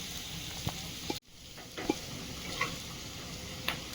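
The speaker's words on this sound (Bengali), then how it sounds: "রসুনটা ভালো করে লাল লাল করে ভেজে নেব না হলে কাঁচা গন্ধ থেকে যাবে" Crushed garlic frying in a pan, a soft continuous sizzle with occasional light ticks and stirring taps, fairly quiet and with no talking.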